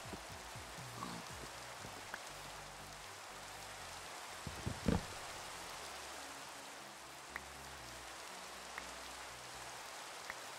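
Steady rain from the video game Minecraft, a soft broadband hiss that stays even and low throughout, with a few faint isolated ticks and a brief low thump near the middle, no talking.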